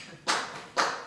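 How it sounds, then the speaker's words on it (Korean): A church congregation gives two short bursts of praise applause, each a quick sharp clatter of many hands that fades within a fraction of a second, set fairly far off in a large room. "칭찬 박수라는 것이 있었습니다"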